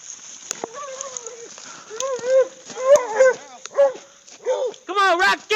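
Several dogs bark and yip in a series of sharp, close calls that grow louder and denser toward the end, against a steady high background whine.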